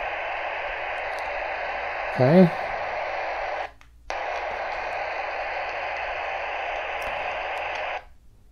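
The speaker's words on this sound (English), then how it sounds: "So that's why you hear the static, because there's no squelching done at all." A Midland GXT1000 radio runs with its squelch fully open, giving a loud, constant hiss of static. The hiss cuts out briefly twice, and a voice speaks a single short word near the start.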